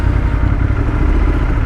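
A Harley-Davidson LiveWire electric motorcycle riding through Central Park, giving off a steady, loud low-frequency drone with a rough, pulsing rumble throughout and no talk.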